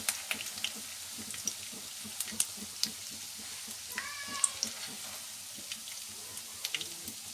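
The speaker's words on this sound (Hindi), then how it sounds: "जो बाकी रह गए उनको फिर फ्राई कर लेते हैं" Leftover rice kababs fry in a pan, a soft steady sizzle with small scattered pops and crackles at close range, no voices.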